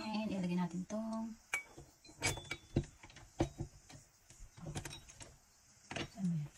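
Electric stand mixer running at low speed while kneading soft pandesal dough in a mixing bowl, a steady motor hum with scattered clicks and knocks, a voice speaking briefly at the start and end.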